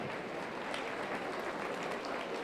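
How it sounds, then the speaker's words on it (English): Audience applause for youth exhibitors at the 2022 Polk County Youth Fair market hog show, a steady wash of many hands clapping at moderate distance, continuous and fairly soft. "Give those kids a big round of applause"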